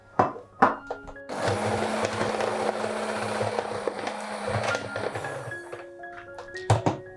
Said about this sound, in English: First, we'll whisk some butter until it's creamy.